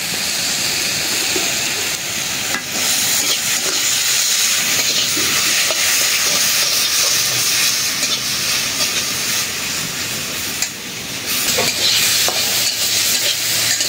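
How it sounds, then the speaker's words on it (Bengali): Steady oil sizzle and hiss as taro leaves fry in a pan, with occasional stirring scrapes and clinks, close up and continuous, no talking. "এখন সামান্য একটু তেল দেই, ভাজা ভাজা করলে বাসনা লাগবে।"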